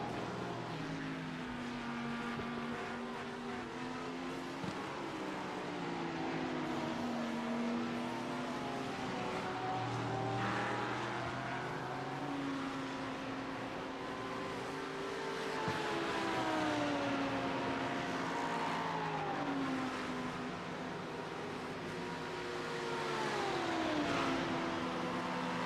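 Race cars of the Wishful 2024 Series lap the Spa circuit in a four-hour event, several engines droning and sweeping through shifting pitches at a distance, a continuous layered roar without speech.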